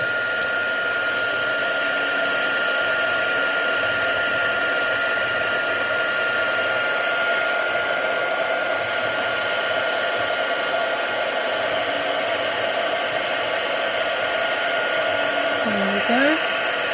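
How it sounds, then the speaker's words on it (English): A heat gun melts embossing powder on a stamped butterfly card, its steady loud blowing whir holding unbroken throughout, with a faint voice briefly near the end. "we'll be done with the heat gun"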